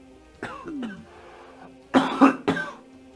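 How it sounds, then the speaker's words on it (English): Several sharp coughs and a throat clear, close by: one or two near the start, then a louder cluster of three harsh coughs toward the end. "Cough, cough, and another cough."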